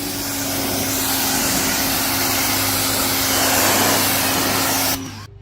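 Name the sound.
Greenworks 2000 PSI electric pressure washer spraying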